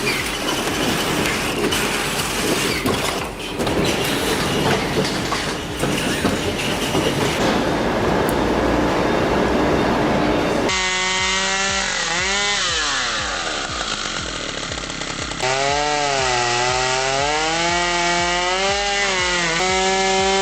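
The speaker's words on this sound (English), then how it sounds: "the peeler machine shaves the rotating log into long, continuous veneer ribbons" A veneer peeler machine shaves a rotating log into continuous ribbons, a dense loud grinding roar that gives way to harsh whining tones sweeping up and down in pitch, with no talk.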